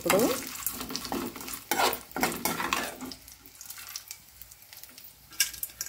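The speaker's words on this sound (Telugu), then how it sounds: "మాడిపోకుండా ఇలా తిప్పుతూ చక్కగా ఫ్రై చేసుకోండి" Pan sizzles steadily as a utensil scrapes and stirs in bursts while frying ingredients for Chettinad tomato chutney, with occasional clinks of metal against the pan.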